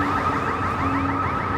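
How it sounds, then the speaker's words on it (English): Security fence alarm in Washington, DC sounding continuously, a repeating warbling electronic tone with sweeping pulses, steady and moderately loud outdoors with no voices. "a squirrel has set off the fence alarm or something"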